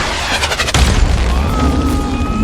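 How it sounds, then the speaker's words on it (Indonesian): A bazooka rocket strikes a tower in an action film and sets off a loud, close boom with a rumbling blast that fills the short moment and then cuts off abruptly. "Chris berhasil selamat sebelum bazooka itu mengenai menara tersebut."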